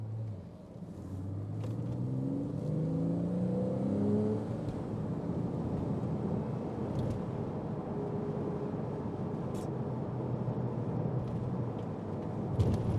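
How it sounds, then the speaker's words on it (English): A 2011 Porsche Boxster accelerates up to speed on a road, heard from inside as a steady engine drone that rises through gears in the first few seconds, then settles into a continuous rumble with road noise, no speech. "We're going to get up to speed here just a little."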